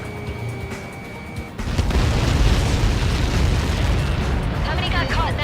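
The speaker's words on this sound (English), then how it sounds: "How many got caught in that explosion?" A huge blast in the jet combat game Ace Combat 7 from a Helios projectile impact, a sudden loud roaring rumble that surges in and stays sustained and heavy for several seconds with no voices.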